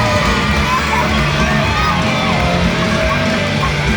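Hundreds of fans in Hull cheer as a women's wrestling championship is won at an independent show, a dense, steady roar of crowd noise with whoops and shouts blended into a continuous wall of sound.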